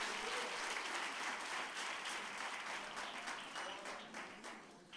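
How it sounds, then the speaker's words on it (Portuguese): A church congregation applauds together during a celebration service, a steady, dense wash of many hands clapping that fills the room and gradually tapers off toward the end. "Aplauda o Senhor, querido."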